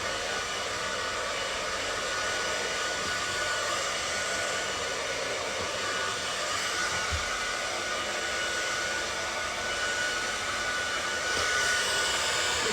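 A hair dryer blows steadily while drying someone's hair before going out, a loud, continuous airy whoosh with a faint high whine, unbroken for about thirteen seconds with no talking.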